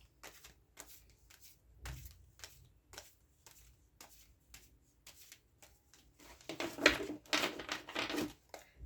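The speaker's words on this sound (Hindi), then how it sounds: "एक बार और शफल कर लेते हैं।" Tarot cards being shuffled by hand, a sequence of soft, quiet riffling bursts spaced irregularly, growing busier and louder toward the end.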